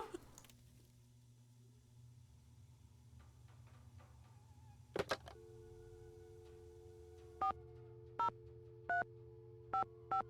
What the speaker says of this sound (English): A lot of phone calls in this game.